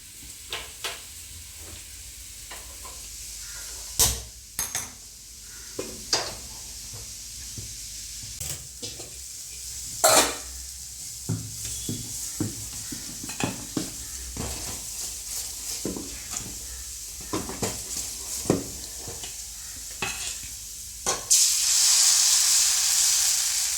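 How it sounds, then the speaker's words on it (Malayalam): Appam batter cooks in a covered pan on the stove, giving a steady low sizzle with scattered clinks and scrapes of utensils, close by and without speech; a louder hiss of steam rises near the end. "ഇനി നമുക്ക് ഈ അടപ്പത്ത് അപ്പം ചൂടാം"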